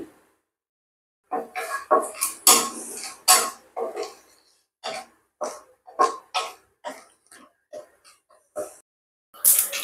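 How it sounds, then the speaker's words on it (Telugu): Mustard seeds with chana dal, urad dal and cumin splutter in hot oil for a Bombay chutney, giving irregular bursts of sharp crackling pops separated by brief quiet gaps, close by. "అదిగోండి ఆవాలు చిట్పట్ట అంటున్నాయి చూడండి"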